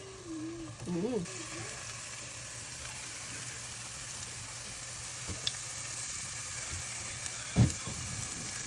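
Onion rings and egg frying together in a pan give a steady, soft hiss and crackle throughout, with a voice speaking over the start and a couple of brief louder pops near the end.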